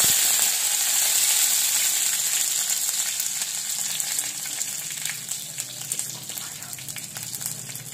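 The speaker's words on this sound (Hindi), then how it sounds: "अब हम इसमें डालेंगे तेल, अच्छा से गर्म हो जाए। अब हम इसमें डालेंगे, हम गैस कम कर लेंगे थोड़ी सी, इसमें डालेंगे हम हमारे कड़ी पत्ते।" Curry leaves hit hot oil in a pan on lowered gas for a dalia dish, giving a loud, bright, steady sizzle up close that gradually softens over several seconds, with scattered crackling pops.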